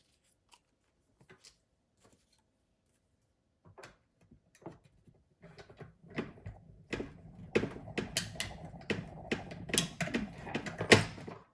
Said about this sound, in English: when I'm running it through my die cutting machine